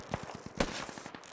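AK rifle fire in the military shooter Squad: a faint, distant rhythmic string of shots at an even pace, one slightly louder crack in the middle, heard at low level.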